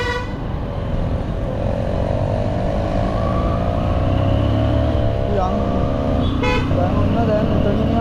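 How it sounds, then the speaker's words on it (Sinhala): Heavy, loud traffic on a busy road, with a constant roar of cars and motorcycles and several car horn toots, one long honk near the end; talk is heard over the traffic. "ඒ නිසා මේ පැත්තේ ට්‍රැෆික් එක වැඩි."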